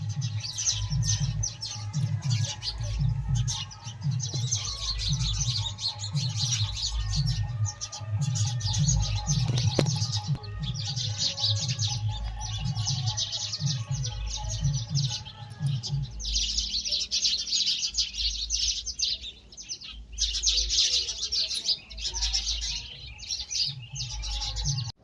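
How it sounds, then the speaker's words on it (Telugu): Sparrows chirp busily in a village backyard garden, a dense, lively twittering chorus that comes in bursts close by over a low background hum. "పిచ్చుకల మ్యూజిక్."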